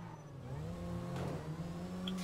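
A Porsche Cayenne in GTA 5 drives uphill toward the mountains, its engine a steady low drone that climbs slightly as it accelerates. No one speaks.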